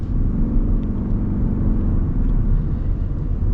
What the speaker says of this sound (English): It took a while for the engine to pop on.